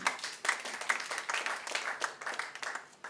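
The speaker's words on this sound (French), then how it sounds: "Acclamons pour Jésus" A church congregation at a thanksgiving service in Kinshasa applauding together, with steady, dense clapping throughout and no talking.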